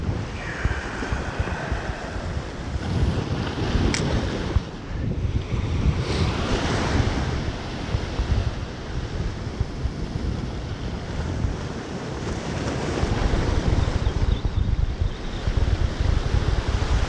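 Steady ocean surf and gusty wind buffet the microphone at a fishing spot, a continuous loud wash of waves and rumbling wind noise throughout with no talking.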